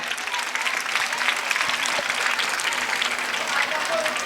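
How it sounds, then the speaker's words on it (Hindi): Audience applause for students at a school annual function in Mangrol, with many people clapping in a steady, dense wash and a low hum underneath. "Come on audience, let's give a big clap for all the students over here."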